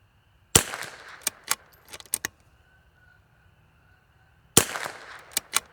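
Two sharp, loud shots from an L3I Stinger rifle during an accuracy test at a range, about four seconds apart, each followed by a few lighter mechanical clicks.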